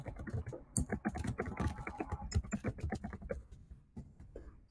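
Fingers tapping a computer keyboard in quick irregular bursts of clicks, close and quiet, slowing toward the end with no speech.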